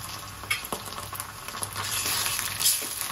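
Ginger garlic paste going into onions frying in a pan for a green masala prawn curry, producing a steady close sizzle with a few stirring scrapes.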